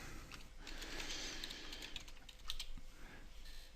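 Keys on a computer keyboard clatter in rapid, irregular bursts as a computer name is entered during a Windows 7 installation, close and fairly quiet, over a faint background hum, with no talking.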